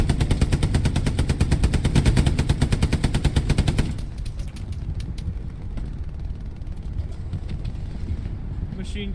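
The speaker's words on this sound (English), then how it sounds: "Machine gunner right on my body." Rapid, loud machine gun fire in the video game Hell Let Loose bursts in a continuous rhythmic stream, then breaks off into quieter distant battlefield shots and rumble.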